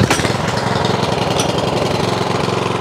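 A Toro SR4 159cc walk-behind lawn mower engine catches on a pull start and runs loud and close, a steady chugging rumble with no talking.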